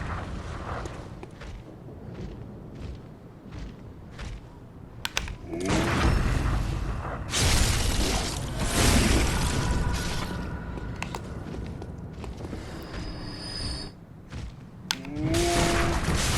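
Gunfire and heavy impacts from the video game Bloodborne, in the Gascoigne fight: a run of sharp booming shots over a thick mechanical, rumbling game soundscape, loud and dense, with creaks and clanks between blasts.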